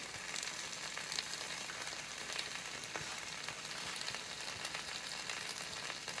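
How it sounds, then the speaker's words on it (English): An egg frying in a hot pan gives a steady, even crackling sizzle with scattered pops, constant and close throughout, with no voices. "wait for the sound of sizzling"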